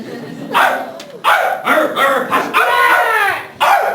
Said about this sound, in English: This is my dog Scratch.